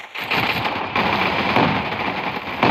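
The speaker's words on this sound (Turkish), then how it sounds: "silah otomatik sıkıyor" Automatic gun in a Roblox game firing a steady, rapid stream of shots for a few seconds, loud and continuous with brief breaks, no voices.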